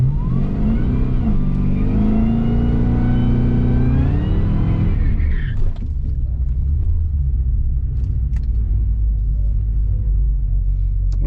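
Boosted Cadillac CTS-V wagon drag car running on E85 doing a burnout, engine revving hard with rising pitch for several seconds, then dropping to a loud, steady rumbling idle close by.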